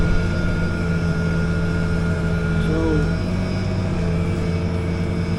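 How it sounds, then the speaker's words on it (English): A B95 light aircraft's 98 horsepower engine running at low power, a steady, loud droning hum with constant tonal harmonics, heard from close by for several seconds. "this B95 has done so well, I think, is it's got a 98 horsepower engine"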